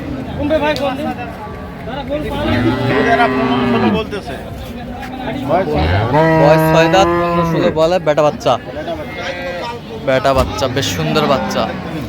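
Dairy cows and calves low repeatedly at a busy rural cattle market in Ambari, Dinajpur, with long drawn moos rising over constant crowd chatter and haggling voices.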